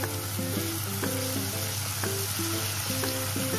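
Masala food sizzles steadily in a hot pan while it is stirred, with a constant close crackle of frying and a faint musical tone repeating in the background.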